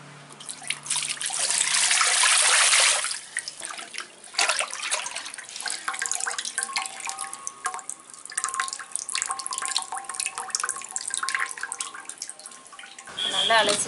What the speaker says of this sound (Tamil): நல்லா அலசியாச்சு, கட் பண்ணிடலாம்.